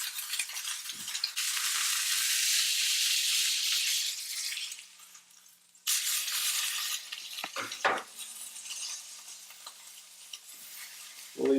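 A spoon stirs and scrapes browned fond from a pot roast pan over a loud, continuous sizzle, with sharper metallic scraping strokes toward the end; no one talks.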